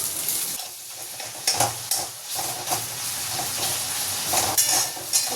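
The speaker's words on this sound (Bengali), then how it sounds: "এখানে মশলাটা কষে নিলাম" A spice paste sautéing in a hot pan for a Bengali chana dal curry, with a steady, close hiss and sizzle punctuated by several scraping stirs and brief pan knocks.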